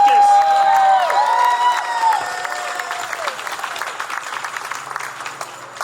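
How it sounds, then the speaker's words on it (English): Audience applause at a Unity Against Hate event honoring a lieutenant governor, sustained crowd clapping with some cheering under a held musical tone at first, then continuing as a steady, gradually thinning patter. "let's give another round of applause for our Lieutenant Governor"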